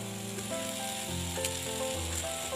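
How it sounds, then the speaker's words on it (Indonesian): Milkfish simmers in a pot of boiling spiced broth as it is stirred, a steady bubbling sizzle with a few soft tonal scrapes from the stirring, close and continuous without speech. "Bumbunya sudah mendidih ya teman-teman, kita masukkan ikan bandeng, kita aduk."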